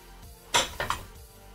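Ceramic dessert plates clink and knock together as they are picked up and set aside indoors, three quick sharp clatters in close succession.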